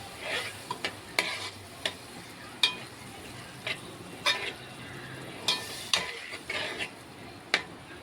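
A spoon scrapes and stirs egg curry with potatoes and a little added water in a frying pan, giving repeated sharp clacks against the metal over a soft, steady sizzle, close by with no talking.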